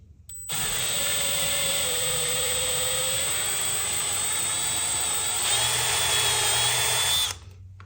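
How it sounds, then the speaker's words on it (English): A power drill with a 13/64 bit whirs at high speed in one continuous burst, loud and close, starting abruptly and cutting off near the end. "Now we need to actually drill this one out a little bit."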